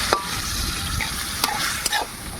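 Ginger paste frying with onion and tomato for a whole chicken dish, a close continuous sizzle broken by a few sharp spoon-on-pan clinks as it is stirred.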